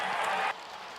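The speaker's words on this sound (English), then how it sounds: "the cheers in the crowd we're hearing obviously from the JMU Duke fans on this" Crowd noise from a college football game between Liberty and James Madison rises as a broad, bright roar for about half a second, then drops away to a faint background murmur.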